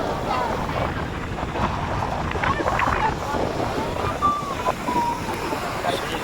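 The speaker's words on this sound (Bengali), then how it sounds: "উত্তাল ঢেউ, এই যে সামনে চলে এসেছে ঢেউ।" Night surf at New Digha beach, where rough ocean waves crash and wash continuously under wind noise and the murmur of a crowd of tourists.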